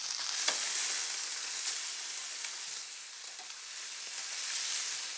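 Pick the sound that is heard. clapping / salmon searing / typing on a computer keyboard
salmon searing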